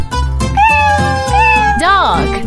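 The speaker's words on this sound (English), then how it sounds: "Cat." A cat meows two or three times, loud and close, the last meow rising and falling in pitch.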